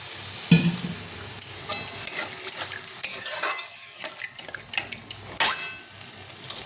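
Water poured into a cooking pot of boiled chickpeas in a home kitchen, heard as scattered clinks of utensil against pot and soft stirring scrapes with brief splashy bursts, close and moderately quiet, with no talking.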